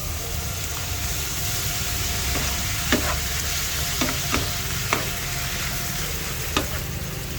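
Squid for adobong pusit frying in a pan with tomato, giving a steady, loud sizzle throughout with a few sharp crackles and pops scattered across it.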